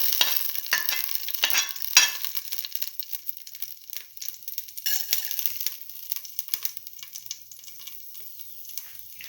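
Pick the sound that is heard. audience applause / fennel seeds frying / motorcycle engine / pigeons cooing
fennel seeds frying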